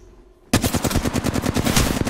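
Rapid automatic gunfire from a battle royale video game, a loud sustained burst of evenly spaced shots starting abruptly after a brief quiet moment and rattling on without pause.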